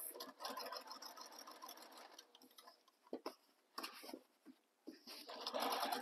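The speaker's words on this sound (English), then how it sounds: "I'm going to top stitch along F" A sewing machine top stitches along the edge of a Minerva tote bag, its needle whirring steadily at close range for the first two seconds, then stopping and restarting in short bursts before a final sustained run.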